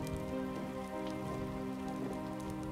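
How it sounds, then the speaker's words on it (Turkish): Rain falls in a steady, quiet patter on surfaces, a soft even hiss that lasts throughout with faint tonal sounds underneath. "Yağmur hala."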